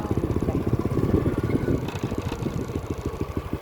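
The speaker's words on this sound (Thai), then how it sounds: "ก็สิไปโดยการขี่มอเตอร์ไซค์จ้า" Motorcycle engine putting along at a steady idle-to-cruise pace during a ride out to a rural field, a close, rhythmic low thrum with faint clatter throughout.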